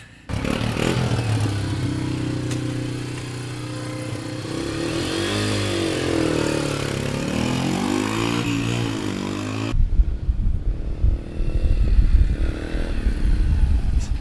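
A Yamaha TTR 125 dirt bike engine runs steadily close by, with a rough, fluctuating idle and slight revving, then the tone shifts as the engine sputters unevenly near the end, with no voices.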